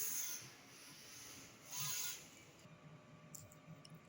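An ink tank printer runs a nozzle test print, giving quiet mechanical rubbing and shuffling with a brief louder sweep of the print head midway, then softer clicks at the end.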